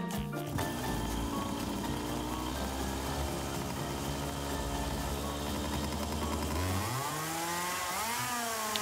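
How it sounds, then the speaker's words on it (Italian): A racing kart's small high-revving engine buzzes loud and close in Gran Turismo Sport, holding a steady raspy whine before the pitch dips and climbs again as it shifts speed. "Sentite qua il rumore del motore."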